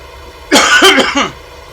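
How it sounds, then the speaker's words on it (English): A few harsh coughs in quick succession, close and loud, followed by quiet. "Excuse me, got a bad cough"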